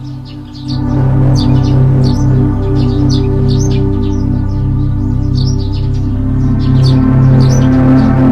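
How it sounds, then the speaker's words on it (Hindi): Birds chirp and tweet repeatedly in a forest near a waterfall, with bright, quick calls scattered over a steady low hum that runs beneath them the whole time. "हवा में सिर्फ झरने की आवाज और पक्षियों के गीत थे।"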